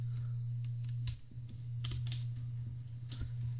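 Quick keystrokes click on a computer keyboard in short irregular bursts, faint and close, over a steady low electrical hum.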